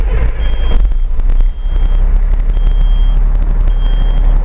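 A 2007 Kenworth T300 medium-duty box truck idles loudly with a deep, steady diesel rumble, while a repeating reversing-style beep sounds in regular pulses throughout.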